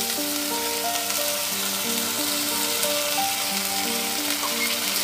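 Ground white mustard paste hits hot oil with koi fish, the climbing perch, in a pan, making a loud, unbroken crackling sizzle, with a faint melodic tune running underneath.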